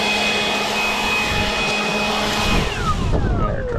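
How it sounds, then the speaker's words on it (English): A Milwaukee M18 Fuel cordless blower running down as its battery dies, a close steady whooshing whine whose pitch slides downward near the end as the motor slows, no talk. "I can hear the RPM starting to drop off."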